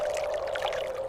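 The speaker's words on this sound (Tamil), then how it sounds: "தண்ணி ஓடுதான்னு பார்க்க வந்தீங்களா?" Water running steadily outdoors, where it has been checked as flowing for washing clothes; a continuous, even, fairly loud rush with no pauses and no voices.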